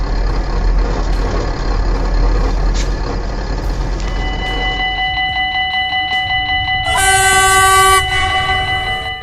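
A heavy train rumbles close by, then a loud horn blares for about a second as tonal rail noise rings out.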